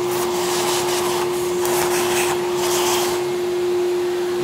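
Vacuum cleaner sucking debris out of electrical boxes after chiselling plaster off them, a loud, steady motor whine with airy hiss close up, running continuously without talk.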